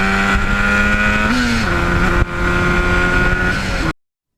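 A 1977 Yamaha RD400 two-stroke motorcycle runs up close and loud, its buzzing engine note holding steady, then stepping in pitch with a brief dip as it shifts between gears, before cutting off abruptly.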